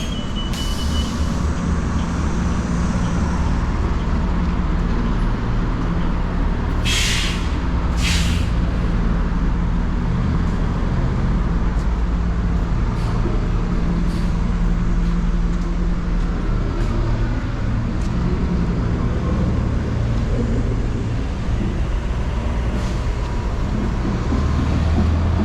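A Lincoln City bus pulls up on a Lincoln, Nebraska street amid a constant rumble of traffic and idling engine, with sharp hissing bursts of air brakes early and around seven to eight seconds, plus smaller releases later.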